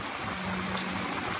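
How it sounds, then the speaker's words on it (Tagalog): Steady, dense hiss of heavy rain pouring down, constant and enveloping with no pauses. "Patuloy ang magbulusok na ulan."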